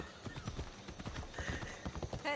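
Horse hooves clip-clopping in the video game Assassin's Creed Odyssey, a steady quick rhythm of soft hoof strikes at moderate distance, heard alone without talk.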